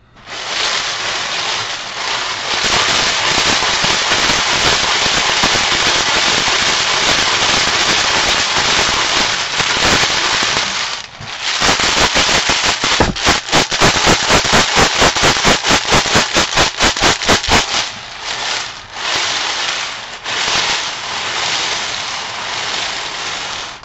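Balls numbered 1 through 100 clatter loudly in a cheap spinning raffle drum, a dense continuous rattle that pulses with the rotation, briefly drops mid-spin, then resumes as rapid rhythmic clacking with no talk.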